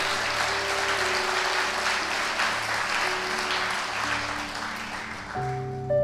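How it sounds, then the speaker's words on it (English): A church audience gives a steady round of applause for Reverend Jeremy Mahood, dense clapping filling the room while music with a held chord plays underneath, a new chord entering near the end. "give him a round of applause"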